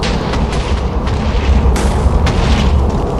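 Thermobaric missiles blasting in the Minecraft Voltz mod: a dense, continuous rumble of booming explosions, loud and close, with several sharper bursts cracking through the roar.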